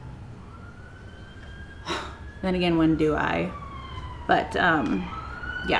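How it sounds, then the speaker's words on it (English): A siren wails steadily in the distance, its long rising and falling tone running under a person talking. "sorry about that siren."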